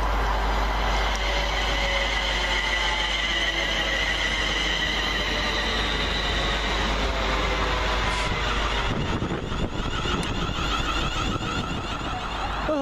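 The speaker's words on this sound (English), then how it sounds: "It's my train. The delayed 12:59 London Midland service to" A London Midland train rolls loudly through Kings Langley station, a steady, close rumble of wheels and rail noise that fills the whole stretch without letup.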